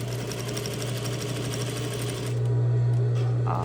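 A sewing machine runs steadily, stitching down a patch pocket about 1/8 inch from the edge, and its motor hum rises a little louder and fuller near the end.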